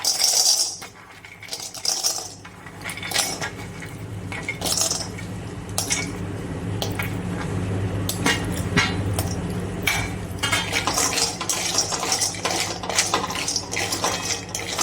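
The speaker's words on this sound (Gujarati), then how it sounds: "હવે એકદમ સ્લો ગેસ રાખી અને આપણે કાજુ નાખીશું" Cashews are stirred and roasted in a metal pan over a low gas flame, producing continuous rattling, clinking and scraping close by, with uneven bursts of clatter.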